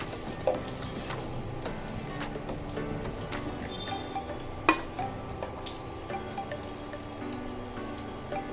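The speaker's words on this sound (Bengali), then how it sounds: "এই দেখো এবার হচ্ছে নারকেলের বড়া, নারকেলের বড়াগুলো এবার ভেজে নেওয়া হচ্ছে।" Coconut fritters fry in hot oil in a home kitchen during a Ranna Puja cooking session: a steady, close sizzle broken by small pops and crackles, with one sharp clink midway and no talking.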